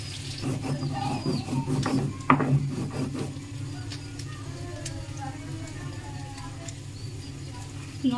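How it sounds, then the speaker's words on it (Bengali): Green chillies are ground into paste with rhythmic rubbing and scraping strokes, close and busy for the first few seconds before easing off, with a person talking alongside. "লঙ্কাটা বাটা হয়ে গেছে।"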